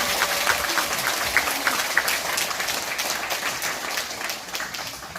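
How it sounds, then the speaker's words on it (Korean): An audience at a religious blessing and prayer gathering gives dense, sustained applause. Many hands clap steadily throughout, with no talk over it. "다시 한번 큰 박수 주시기 바랍니다."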